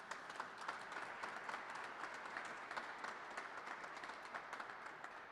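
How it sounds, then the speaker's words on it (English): At a public works roadshow in Frankfort, Kentucky, a crowd applauds local companies with a steady, even patter of many hands clapping. The sound stays fairly soft and distant from start to finish. "Let's give a big round of applause to all these Kentucky companies."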